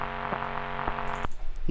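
A Serum synth bass run through a Decapitator set to a bad old radio preset, giving a gritty, band-limited, buzzy tone with a steady pulsing texture for about a second before it cuts off to quieter noise and faint ticks.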